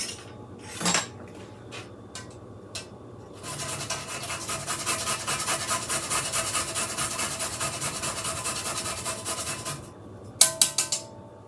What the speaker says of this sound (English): I'm going to grate a little bit of nutmeg in there